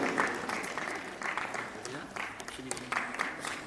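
An audience claps at a stage performance event, the applause rising and falling in uneven waves while a voice talks over it.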